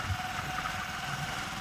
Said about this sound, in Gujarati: બાઈક તો ગાઈસ ચાલુ કરી દીધું